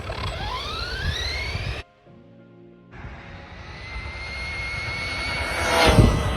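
Arrma Big Rock RC truck on a speed run near 50 mph with new tires, its electric motor whining up in rising pitch, cutting out briefly, then screaming loud and steady as it passes close.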